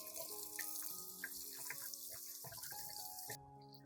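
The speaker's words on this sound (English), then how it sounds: "Next, I rinse the entire plant under clean running water." Tap water runs and splashes unevenly, with shifting gurgles and spatter as an orchid plant is rinsed under the stream, then cuts to a quieter trickle.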